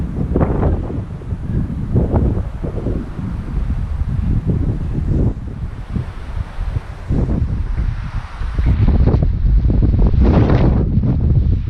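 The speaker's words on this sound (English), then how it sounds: "It's so windy up here." Loud, buffeting wind gusts batter the microphone in surging waves on a mountain top, rumbling heavily and almost without pause.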